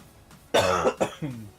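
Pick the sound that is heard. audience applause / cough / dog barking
cough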